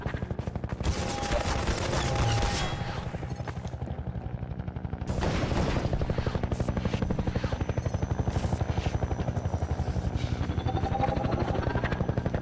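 A helicopter hovers and circles in Half-Life 2: Episode 2, its loud, steady rotor drone continuing throughout with bursts of machine-gun fire mixed in.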